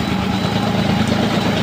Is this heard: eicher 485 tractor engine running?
yes